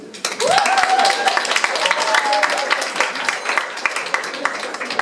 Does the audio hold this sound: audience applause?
yes